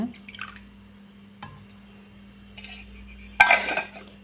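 Water is poured into a tumbler of soaking seeds, a short, bright splash near the end after a few faint drips and clinks of glass.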